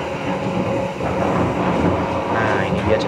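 Train rumbling and clattering steadily along the rails as it approaches a new railway bridge, a continuous loud rolling noise with faint wheel clicks throughout.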